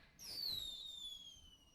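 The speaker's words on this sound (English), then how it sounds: "Then more and more fireworks begin to pop" A single firework pops in a visual novel game, with a bright descending whistle-like tone trailing off over about a second after a soft burst, fairly quiet and with no voices.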